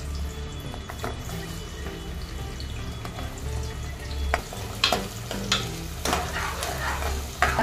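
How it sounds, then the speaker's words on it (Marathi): Finely chopped onions fry in hot oil and ghee with a steady sizzle, joined by intermittent stirring scrapes and clatters that grow busier and louder toward the end. "त्यात मी हे बारीक चिरलेले कांदे सोडते आणि त्याला तेलात चांगले परतून घेते."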